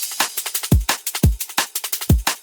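A liquid drum and bass drum loop with punchy deep kicks, crisp snares and busy hi-hats at a brisk tempo, close and loud with no voices.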